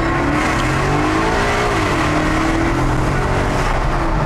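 Maserati GranTurismo S 4.7 MC V8 accelerating hard from inside the cabin, engine note climbing steadily with a brief dip around a paddle-shift gear change, loud and continuous with no talk.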